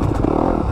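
Engine of a 2020 Yamaha YZ250FX dirt bike running steadily and loud up close, a brief continuous burst of mechanical roar with no talking.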